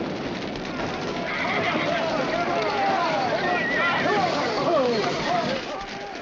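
Horses being led out of a corral during a frontier camp fire alarm, with whinnies and hoof clops under urgent shouting and a busy background of commotion.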